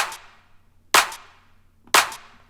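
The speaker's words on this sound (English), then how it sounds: "We've then got this clap, which is stolen from this loop." A crisp electronic clap sample sliced from a loop in a deep piano house track hits three times in isolation, each sharp snap trailing off into a short reverb tail, evenly spaced about a second apart.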